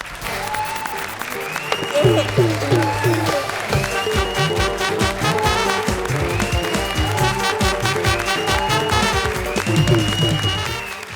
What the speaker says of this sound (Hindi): हाँ बजाओ ताली उनके लिए